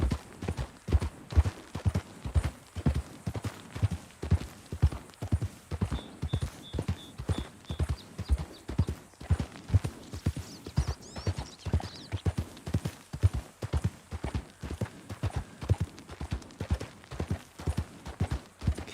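A horse's hooves clip-clop in a steady walking rhythm in the video game Red Dead Redemption 2, close and clear, with a brief faint whinny-like tone partway through.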